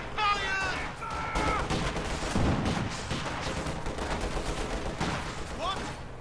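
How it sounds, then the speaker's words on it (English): Gunfire in a Company of Heroes 2 battle: dense, continuous rattling bursts of small-arms fire with some heavier booms, loud and close in the mix, with a voice speaking over it. "Enemy is engaging us. Ober Soldaten on the way. Enemy fire."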